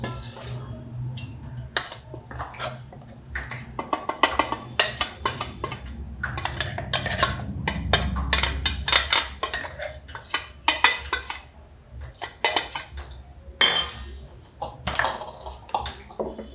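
Dry dal scraped and poured into a metal gamla basin while preparing chakli dough, with repeated clattering, scraping and ringing metallic knocks close up, busy throughout with a low rumbling hum underneath.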